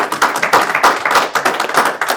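Sustained audience applause for police officers at a Harrisonville Board of Aldermen meeting, a dense steady patter of many hands clapping without a break, fairly loud and close.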